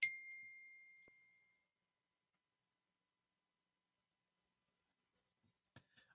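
A phone notification dings once, bright and clear, ringing out for about a second and a half before fading, followed by a long stretch of near silence and a few faint clicks and rustles at the end.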